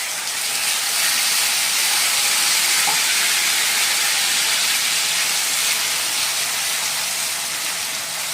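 Ginger and green chili paste sizzling in hot oil with five-spice for a mixed vegetable dish, a steady, loud, continuous hiss and crackle that holds evenly throughout without talk.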